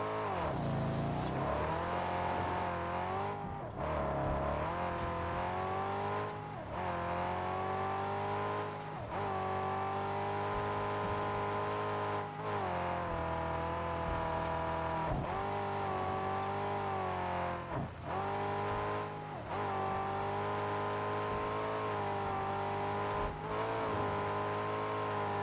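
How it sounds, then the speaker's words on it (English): A truck in the Mad Max video game drives steadily with a loud, continuous engine drone. The revs rise and fall in repeated shifts, with occasional skids and knocks. "Keeping this truck, even though it kind of drives like shit."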